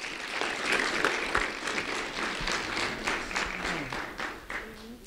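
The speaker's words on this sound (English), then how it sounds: "a round of applause for Iriana Reyes" A round of applause for a sixth-grade student honored by a county sheriff's office, with a room full of people clapping steadily at moderate volume, the claps spread and overlapping throughout.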